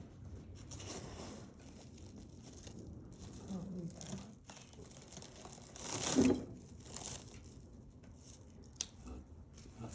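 Saran wrap plastic film is crumpled by hand in quiet, close crinkling bursts, with one louder scrunch near the middle.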